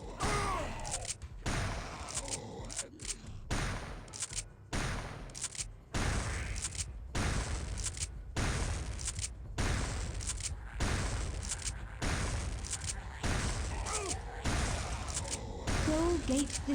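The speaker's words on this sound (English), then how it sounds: "Shotgun." Repeated heavy shotgun blasts in Turok 2 Remastered on Xbox One S, a dozen or so loud booming shots at a steady pace of roughly one per second, with game effects and occasional talking between them.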